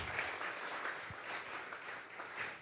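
Church congregation at a Sunday service giving an offering of applause, a steady wash of many hands clapping together, fairly faint and distant, sustained without pause.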